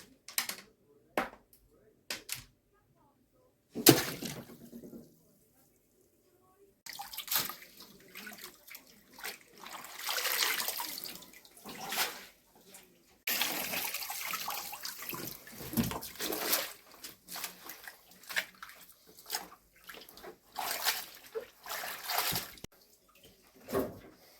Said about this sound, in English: The next step is to wash the grapes in baking soda and then rinse them with water.